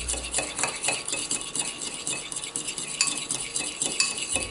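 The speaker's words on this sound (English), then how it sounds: "Whisking this together just with a fork." A fork beats a dressing in a bowl, fast, light metallic clicking and scraping in a continuous rhythm, close and fairly quiet with no talking.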